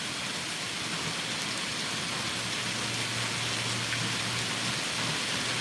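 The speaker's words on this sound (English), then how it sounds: "It's pouring down here too." Heavy rain pouring down beside a porch, a dense, even roar of water that stays steady and fairly faint throughout, with no voices.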